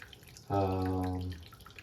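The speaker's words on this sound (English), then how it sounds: "we'll go ahead, let the water drain out" Water drains out of a sink after washing a playmat: a short, sudden gurgling tone that lasts under a second and then cuts off, heard close with no voices.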